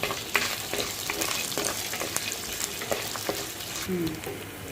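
Peanuts fry in a pan with a busy, continuous crackle and sizzle, dotted with frequent small pops and light scraping as they are moved about.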